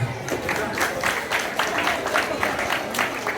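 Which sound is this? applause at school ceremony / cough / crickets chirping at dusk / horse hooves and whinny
applause at school ceremony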